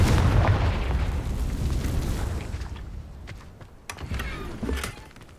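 A fiery Confringo spell in the Hogwarts Legacy video game on PS5 erupts as a loud booming blast that slowly rumbles away, followed a few seconds later by several sharper cracks and pops, with no talking.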